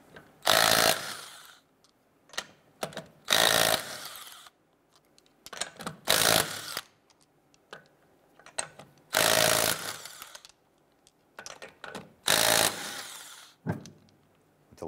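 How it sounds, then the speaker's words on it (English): Impact wrench spinning off the 19 mm lug nuts on a 2012-2017 Toyota Camry wheel, loud broadband bursts of about a second each repeating every two to three seconds, with short ratcheting clicks between them and no talk. "let's go ahead and remove our lug nuts"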